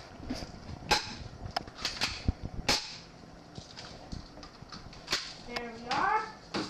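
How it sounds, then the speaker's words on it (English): Airsoft BB gun shots, a few sharp snapping cracks spaced irregularly, close by, with someone speaking in between and over them. "I'm gonna do two more shots for you."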